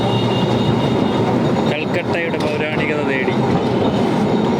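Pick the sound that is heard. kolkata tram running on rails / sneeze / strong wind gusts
kolkata tram running on rails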